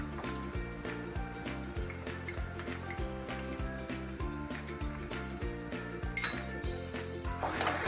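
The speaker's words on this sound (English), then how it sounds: "We have to continue the stirring process." Boiling sugar syrup stirred in a pan for laddu, with cardamom and sugar powder mixed in; a steady bubbling sizzle under rapid, rhythmic scraping and clinking strokes of a utensil against the pan.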